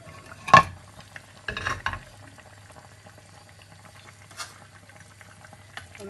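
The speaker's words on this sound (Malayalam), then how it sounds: "ഒന്ന് മെല്ലെ ഇളക്കി കൊടുക്കാവേ" A Palakkad-style Kerala fish curry is stirred gently in a pot, giving a few brief scraping and bubbling bursts separated by quiet stretches, with a faint simmer underneath.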